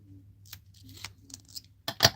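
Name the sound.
cutting foam tape with scissors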